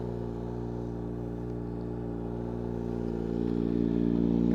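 A Kawasaki Z H2 motorcycle with an aftermarket exhaust, otherwise mostly stock, cruises along with a steady mid-pitched engine drone that swells slightly toward the end, heard from the rider's position with no talking.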